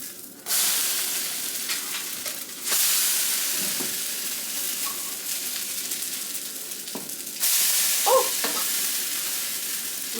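Protein pancakes made with cottage cheese sizzle loudly in a hot frying pan, a steady close hiss broken by a few scraping clicks and soft thumps as the pancakes are turned over.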